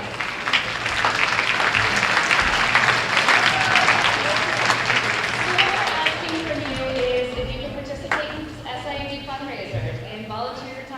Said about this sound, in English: Give your parents a round of applause.